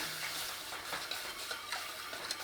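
Milk being stirred into a sauce in a pan for bacon and leek cannelloni, a soft, faint, continuous hiss and gentle bubbling with light spoon swishes, nobody speaking.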